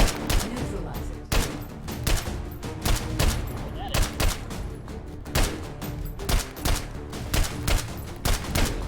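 Gunfire in the virtual reality shooter H3VR cracks out as sharp, loud single and paired shots at an irregular rhythm, with short pauses between volleys and occasional background voice.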